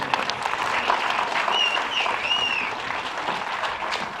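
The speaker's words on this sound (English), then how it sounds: "I think they deserve a standing ovation" Audience applause at a wildlife fundraiser dinner, a dense steady patter of many hands clapping with a few whistles, moderately loud and continuous for a few seconds.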